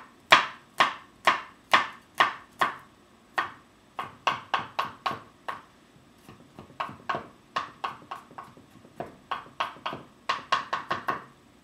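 A knife chops garlic cloves on a cutting board in a home kitchen, a long run of sharp, close knocks in quick uneven bursts with brief pauses between them.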